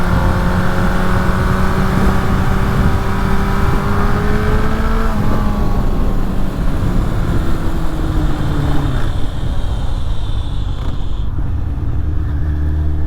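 Suzuki Bandit motorcycle engine pulling hard on a road exit, a steady loud drone whose pitch climbs and then falls off as the throttle eases, heard continuously up close with no voices.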